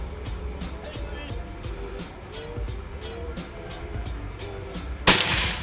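Single sharp crack of a PCP air rifle, a Bocap Predator, fired during an outdoor accuracy test, sounding near and abrupt near the end after someone speaks over a low background rumble.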